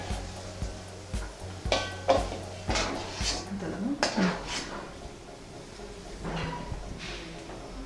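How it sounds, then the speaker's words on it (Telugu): Golden deep-fried prawns for an Andhra prawns pickle are moved into another bowl, with irregular metallic clanks and scrapes of utensils against the dishes over a faint background hum. "ఇప్పుడు దీన్ని వేరే బౌల్లోకి ట్రాన్స్ఫర్ చేసుకుందాం."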